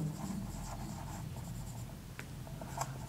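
Pen scratching on paper at a lecture on molar specific heat, a steady faint scrawl of strokes running through the whole stretch with a few sharper ticks, close and quiet with no voice over it.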